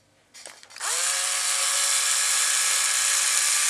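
A powered cross wrench spins up with a steady high whine and holds a constant buzzing drone while working on a 1/8 scale Atomik-RC Metal Mulisha short course truck.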